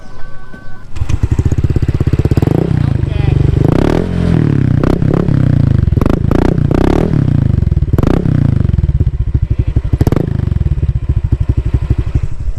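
Honda Click scooter sits for a sound check, its engine and exhaust close and loud, idling in a steady putter broken by several quick throttle blips that rise and fall, with some scraping and clattering and no voices.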